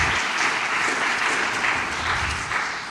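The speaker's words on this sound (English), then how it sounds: "I just want to give you a round of applause for showing up." A steady wash of audience applause at a live community event, continuous dense clapping that fades slightly at the close.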